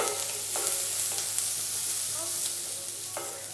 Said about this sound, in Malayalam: നന്നായിട്ട് നമ്മുടെ ഈ സവാള എല്ലാം ഒന്ന് വഴണ്ട് വരട്ടെ